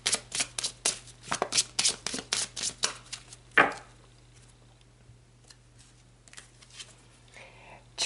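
Tarot cards are shuffled and drawn, with a rapid run of crisp riffling snaps for about four seconds, then a few softer card slides and taps, all close by and without talk.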